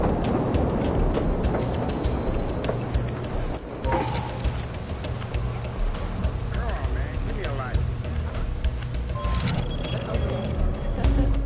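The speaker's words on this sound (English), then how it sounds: "Southbound train arriving shortly." In the Watch Dogs video game, a subway train pulls into a station with a steady low rumble and rattling cars, a tone sounding over the noise and a station announcement heard over it.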